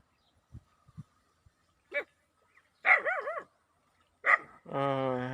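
A dog barks a few sharp, separate times, with a high yelp and a drawn-out whine, amid faint thumps and otherwise quiet surroundings.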